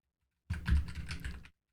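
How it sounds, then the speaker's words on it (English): Fast keyboard typing on a computer keyboard while writing Markdown in a notepad app, a steady close run of clicking keystrokes lasting about a second, with no voices. "if you want to type something"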